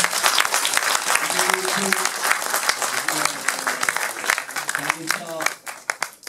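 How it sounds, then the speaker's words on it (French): A crowd applauds steadily with dense, crackling claps and a few voices at a party office inauguration; the clapping thins toward the end, and people talk over it. "je pense qu'on peut les applaudir"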